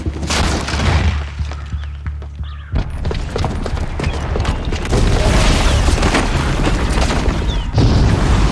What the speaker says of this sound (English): the booby trap on the bomb downstairs is gonna get set off